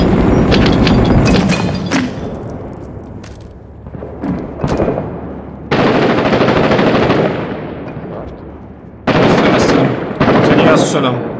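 Gunfire in the video game Six Days in Fallujah, loud bursts of automatic fire in several long volleys separated by brief quieter gaps with scattered single shots, players talking over it.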